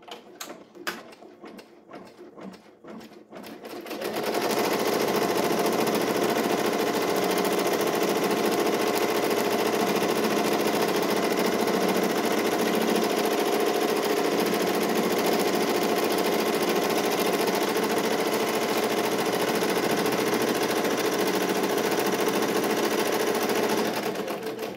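A Ricoma EM1010 embroidery machine stitches an applique design with a steady, loud mechanical whir and rapid needle clatter that runs continuously after a few seconds of quieter handling noise.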